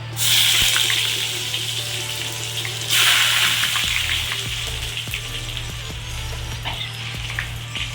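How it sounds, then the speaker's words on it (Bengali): Garlic drops into hot oil with a loud burst of hissing sizzle, then a second surge a few seconds later, easing into a steady, bubbling crackle close by. "তেলটি আমি কমিয়ে নিয়েছি এবার ওই তেলের মধ্যে রসুন দিয়ে দিলাম"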